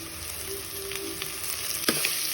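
Grated coconut, coriander leaves and onion frying together in a pan for avare bele sambar, giving a steady close sizzle with a few light stirring scrapes and no speech.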